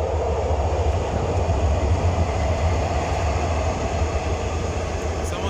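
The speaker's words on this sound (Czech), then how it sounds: "Takhle tu jezdí tramvaje," A tram rolls along a Prague city street, its steady rumble loud and close throughout with a faint rail rattle on top and no clear speech.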